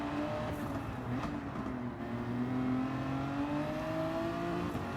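A Gran Turismo 7 race car's engine comes off the throttle and back on, its tone dipping and then climbing steadily in pitch as it pulls hard, close and prominent with no voices.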